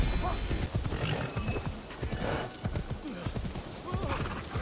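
Hooves clip-clop steadily through a video game as a horse moves, with a whinny rising partway through; the sounds are fairly loud and continuous, with talking mixed in.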